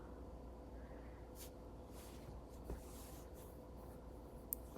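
A pen or pencil scratches faintly across paper in quiet, intermittent strokes while a scrapbook page layout is drawn, with a low background hum and no talk.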